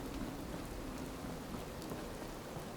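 Steady, even rain hisses without a break in the Fallout 4 video game, a soft, constant downpour with no voices.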